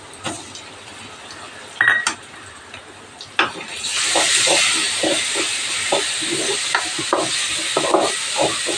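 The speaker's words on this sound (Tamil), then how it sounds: "நல்லா வதக்கி விட்டுடலாம் சின்ன வெங்காயம்லாம் நல்லா வதங்கட்டும்" Shallots and garlic sautéing in a pan for a Tamil flat-bean poriyal, a steady hiss of frying that swells partway through, with scattered scrapes and taps of a spatula stirring close by.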